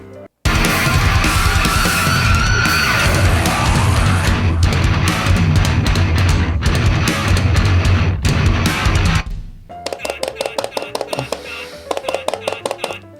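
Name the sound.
heavy metal band recording playing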